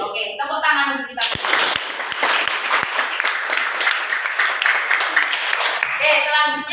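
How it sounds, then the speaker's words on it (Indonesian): A group of teachers in a classroom training session claps for themselves after a morning cheer: a short burst of voices, then loud, dense clapping with a few sharp isolated claps standing out, ending as a voice resumes speaking. "tepuk tangan untuk kita"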